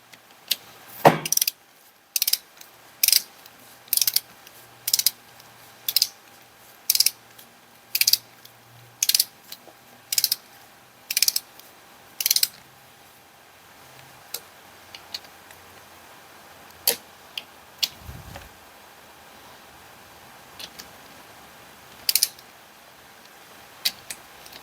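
A torque wrench tightens bolts on a Morris Mini Deluxe engine during reassembly, giving a steady run of close, sharp ratchet clicks followed by a sparser scattering of single clicks.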